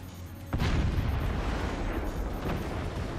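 A single deep, booming howitzer shot in a video game erupts suddenly, followed by a long rumbling tail that fades slowly.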